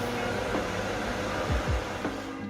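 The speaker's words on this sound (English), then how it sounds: "I'm doing this bit as a voiceover because the extractor was so loud" A home kitchen extractor fan above a hob runs loudly, a dense, even whooshing roar that holds steady for the whole stretch with no voices over it.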